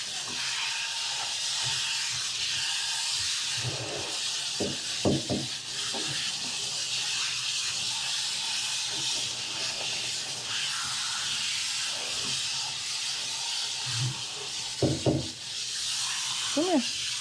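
A water sprayer rinses a dog during grooming, a steady loud hissing spray that runs continuously, with brief bumps and a voice speaking now and then.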